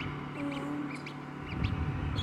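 Newly hatched ducklings inside an egg incubator give faint, high, brief peeps over a steady low fan hum, a few scattered calls across two seconds.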